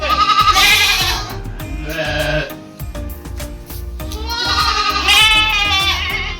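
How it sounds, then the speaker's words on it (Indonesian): Goats and sheep bleat loudly and repeatedly while being fed fermented silage feed, several close calls overlapping in a noisy pen with no talking. "setelah kita berikan ke kambing maupun domba, ini mereka lahap teman-teman"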